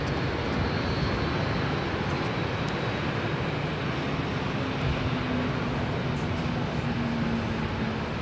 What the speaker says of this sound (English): And here we have Southwest 2283 coming in from Oakland, California on a